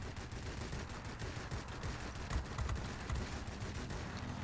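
Aircraft machine guns rattle on a Ju 87 D-5 Stuka in World of Warplanes, a fairly quiet, rapid stream of clattering shots over a steady engine drone, with no talk.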